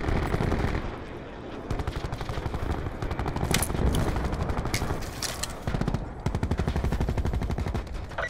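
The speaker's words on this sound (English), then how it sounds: "Firing sensor gun." Rapid automatic sensor gun fire in a team deathmatch video game, long continuous bursts of fast repeating shots with brief gaps and a few sharper impacts.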